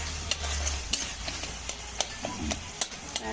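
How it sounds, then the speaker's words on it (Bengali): A spice paste of onion, ginger, garlic, tomato, chilli powder, turmeric and cumin powder is stir-fried in a pan, with sharp, regular spatula scrapes over a constant close sizzle and no talking. "মশলা নিয়েছি পেঁয়াজ, আদা, রসুন, টমেটো, লঙ্কা গুঁড়ো, হলুদ গুঁড়ো, জিরে গুঁড়ো দিয়ে এটা কষা হচ্ছে।"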